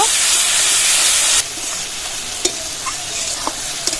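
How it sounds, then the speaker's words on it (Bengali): Garlic paste fries with browned onions for a chicken curry, starting as a loud, dense sizzle that suddenly drops to a softer hiss, broken by a few sharp spatula scrapes and taps. "রসুন বাটা দু চামচ দিয়ে দেবো রসুনটা ভালো করে কষিয়ে নেব"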